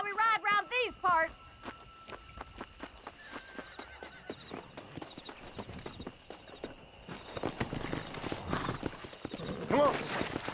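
Horse hooves clip-clop steadily with a whinny near the start, then pick up into a faster gallop, loud and close, with game ambience in a Red Dead Redemption western setting.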